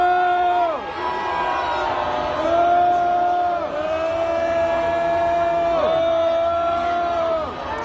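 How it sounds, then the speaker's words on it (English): A crowd at an outdoor memorial service boos the mayor in long, drawn-out jeering calls that rise and fall in repeated waves, loud and sustained. "So he's getting booed."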